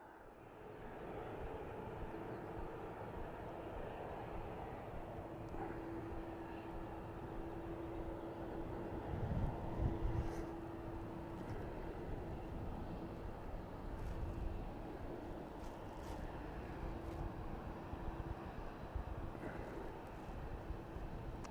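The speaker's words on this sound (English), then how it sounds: "So 737 of Ryanair." A Ryanair Boeing 737 at Dublin Airport gives a faint, steady jet engine roar and whine from a distance. The sound stays low and even throughout, swelling slightly now and then, with a little background noise.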